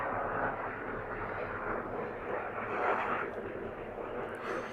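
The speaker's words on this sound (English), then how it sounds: "here comes a Stars helicopter" A STARS air ambulance helicopter passes overhead in Regina on a November city walk, heard as a steady, broad engine rumble that holds at a moderate level throughout without a clear approach or fade.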